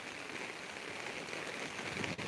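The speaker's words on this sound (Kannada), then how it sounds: "ಇಲ್ಲಿ ಜೋರು ಮಳೆ ಇದೆ ನೀರು ಬೀಳುತ್ತಾ ಇದೆ" Heavy rain falls steadily outdoors as a continuous, even hiss of water, close and unbroken, with no voices.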